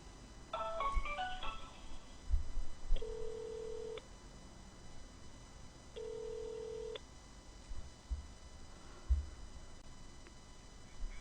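A telephone call being placed: a quick burst of dialing tones, then two long ringback tones spaced a few seconds apart, quiet and clear with faint background clicks and no talk.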